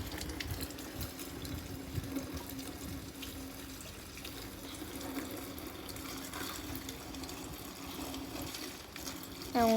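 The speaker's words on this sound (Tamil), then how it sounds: "நான் பைப்லேயே கனெக்ட் பண்ணி ஃபில் பண்ணிடுறேன்" Water runs from a hose into a tub or pool as it fills, making a faint, continuous gushing trickle with a low steady hum underneath throughout.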